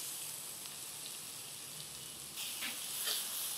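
Grated carrot tossed into hot oil seasoned with a pinch of turmeric, giving a steady soft sizzle that hisses a little louder toward the end, with no voices.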